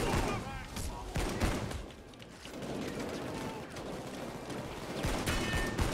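Dense bursts of rapid gunfire fill a Payday 2 heist shootout, with repeated volleys close and loud and only brief lulls between them.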